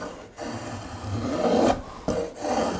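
A hand spokeshave shaves along a wooden edge in steady forward push strokes, each a close, dry rasping scrape with brief pauses between passes.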